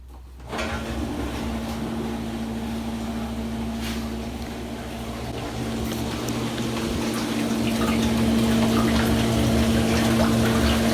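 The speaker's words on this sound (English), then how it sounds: "turn on the pump." A liquid pump circulating warm water for mixing bulk sugar syrup hums steadily with a low drone as water churns and trickles, growing slightly louder over time; no talking.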